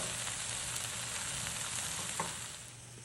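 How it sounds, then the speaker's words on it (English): Pork browning in a hot pan, a dense steady sizzle and crackle of frying close up, fading slightly toward the end, with no talking. "So we're gonna let this other side brown for just a minute"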